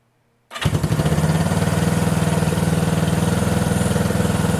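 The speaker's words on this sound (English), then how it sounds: "let's get her started up" A hot 1974 Honda CB 360 motorcycle engine fires up after a moment of silence and settles straight into a loud, steady, close idle with an even pulsing beat.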